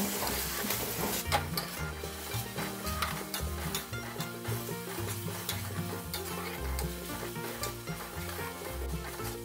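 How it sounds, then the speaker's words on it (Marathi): Thecha, a crushed chili paste, sautéed with browned onion in a pan, giving a busy, continuous sizzle with frequent spatula scrapes and clinks against the metal, loud and close throughout, with no talking. "आपला कांदा लाल झाला, त्यात आता आपण ठेचा घालून घेऊ। ठेचा सुद्धा छान परतून घेऊ।"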